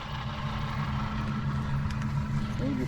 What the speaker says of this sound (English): There's something wrong with this truck. Sounds like a death rattle is what it sounds like.